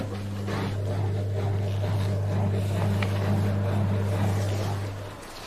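A Miele washing machine starts up with a steady low motor hum and a faint churning wash beneath it, holding for several seconds before fading out near the end, with no talking.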